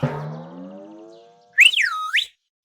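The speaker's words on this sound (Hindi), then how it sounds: "तभी चाचा चौधरी की सीटी की आवाज सुनकर" A whistle sound effect in a Hindi narration of a Chacha Chaudhary comic, a close, bright, wavering whistle with rising and falling pitch, coming right after a fading tonal note.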